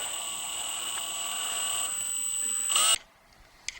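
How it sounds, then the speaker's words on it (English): A power drill runs steadily, twisting a length of wire clamped in a vise until it straightens, with a high whine for about three seconds before it stops abruptly, leaving near silence and one brief click. "we gently pull the trigger with a drill until it comes straight."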